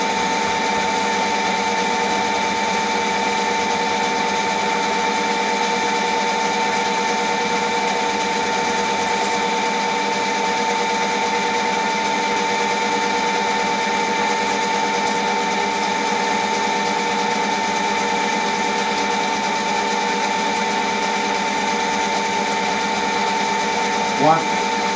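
A metal lathe turns steadily at about 360 RPM in direct drive without back gear while machining a bevel gear, giving a constant even machine whine and hum throughout with no speech.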